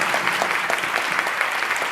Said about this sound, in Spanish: les vamos a dar un aplauso de bienvenida